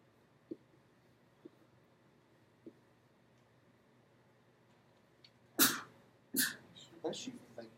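A sneeze in a calculus lecture room: two sharp, loud bursts close together near the end, following a quiet stretch with a few faint clicks, then a softer trailing noise.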